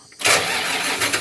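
A tractor engine cranks briefly and then catches, settling into a loud, steady running idle, close up with no talk over it.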